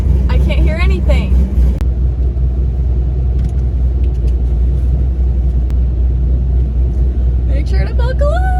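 A built Chevrolet Camaro engine idles loud and close with a heavy, steady low rumble throughout, while people talk over it at the start and end.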